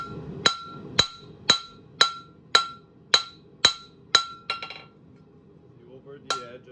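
A blacksmith hammers metal over the edge of an anvil, drawing out a short taper: eight evenly spaced bright ringing blows about half a second apart, loud and close, then a brief pause and one final strike.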